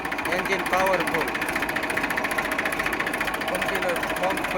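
Close by, a 2015 one-owner Eicher 380 tractor idles with an even, throbbing diesel drone while someone talks over it.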